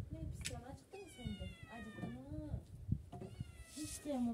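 A cat meows repeatedly in drawn-out, rising and falling cries, close by, mixed with a person talking in the same room.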